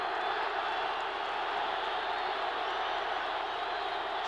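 Noisy crowd at a 1979 NFL football stadium, a constant broad roar of many voices that holds steady throughout without breaks, loud and distant like a packed stands heard from the broadcast booth.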